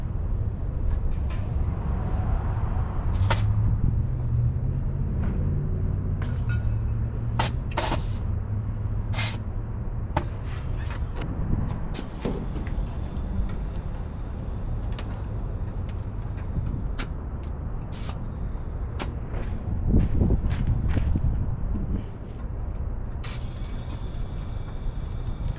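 A compressed-air pig feeds an air jack lifting an old Mazda B2200 pickup truck off the ground, giving a steady rushing, hissing drone with repeated sharp clicks and air bursts over about half a minute, fairly close.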